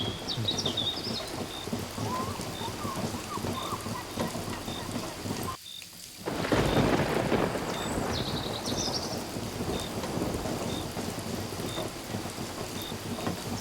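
Heavy rain pours steadily with a dense, even wash of drops, broken by a brief near-silent gap midway before resuming slightly louder, with a faint low rumble beneath.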